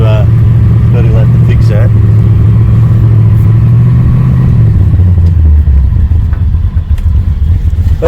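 A Holden HZ with an LS engine swap idles high and loud close by, a steady droning rumble that holds raised revs, then sags slowly as the engine settles down; someone speaks briefly over it.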